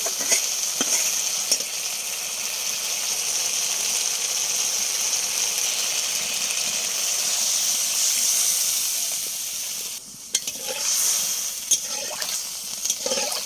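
Vegetable curry in a pot, thinned with a little water after the spices were fried, bubbling and hissing at a steady, fairly loud level, with a short dip and a few clinks near the end and no speech.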